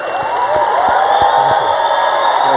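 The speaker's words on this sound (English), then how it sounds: "Let's give a huge round of applause." Audience at a public event with a Kurdish speaker applauding: dense, loud, continuous clapping with some cheering mixed in, held steady for a couple of seconds.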